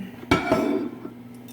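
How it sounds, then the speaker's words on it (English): A pot roast lifted out of an Instant Pot and set onto a plate, with a sharp clatter of utensil against dish followed by a few softer clinks, then fading to near quiet. "I'm going to take the roast out, put that in a plate"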